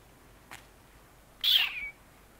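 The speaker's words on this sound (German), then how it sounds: "Oh, was ist denn hier los? Eine Katze." A single short, faint meow from a cat in an RPG Maker horror game, preceded by a brief soft tick in an otherwise quiet scene.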